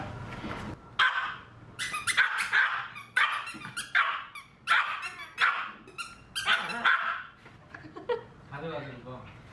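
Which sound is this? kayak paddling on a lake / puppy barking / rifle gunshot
puppy barking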